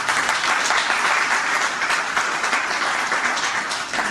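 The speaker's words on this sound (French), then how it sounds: "On peut les applaudir." An audience applauds at a conference event in Yaoundé, a steady, loud wash of many hands clapping that continues evenly throughout with no talk over it.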